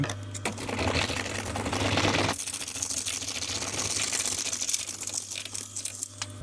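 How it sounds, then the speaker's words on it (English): A sewing machine stitching an auto upholstery seam runs in a rapid steady mechanical patter with a constant low hum, briefly louder at the start, then continuing evenly close by without speech. "A row of stitching there, and then I'm going to stitch from the other side now."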